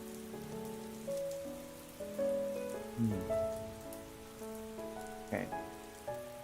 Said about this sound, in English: Focus on the rain noises and the music.